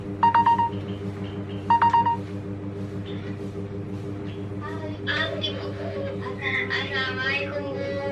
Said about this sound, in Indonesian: Kemudian terdengar dering ponselnya, dan ternyata yang menelponnya adalah anaknya, Anya.